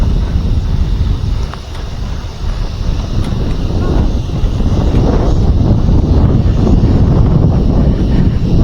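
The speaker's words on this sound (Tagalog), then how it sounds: "Sarap ng hangin dito." Steady, roaring wind buffets the microphone throughout, a dense low rumble with gusty swells and no clear voices.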